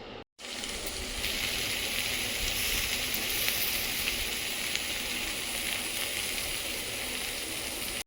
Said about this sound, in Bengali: ভেন্ডিটা ভেজে নিয়ে